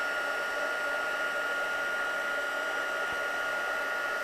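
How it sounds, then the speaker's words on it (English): A heat tool blows steadily at close range as it melts clear embossing powder on a stamped card, a continuous even whoosh with no pauses or voices. "I'm going to melt this embossing powder and build it up a little bit."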